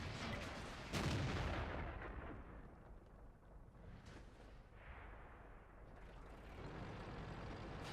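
Deep booming tank gun shots in the video game World of Tanks, one heavy blast followed by a long rumbling decay and further distant rumbles, fairly faint overall.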